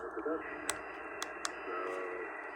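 A Xiegu G90 amateur radio receiver hisses with steady static, a faint signal buried underneath and a few brief clicks breaking through.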